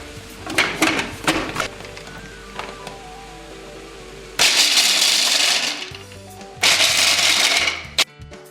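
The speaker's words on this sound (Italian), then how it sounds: "procediamo con tritare le mandorle" Loud bursts of a food processor grinding almonds, two long whirring runs with rattling chunks, preceded by lighter clattering and clinking.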